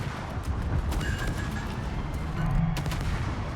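Warship guns in a naval combat video game fire against a dense background rumble of battle, with sharp booms and cracks, a loud burst near the middle and quieter distant shots around it.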